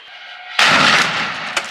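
A sharp, loud Diwali firecracker blast bursts out after a brief quiet hum, its broad roar lingering and decaying, with a smaller crack following moments later.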